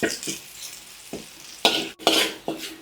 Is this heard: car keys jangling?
no